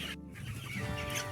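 Many chickens crowded together in a poultry farm coop, clucking in a steady overlapping chorus that sounds close and moderately loud, with no talking.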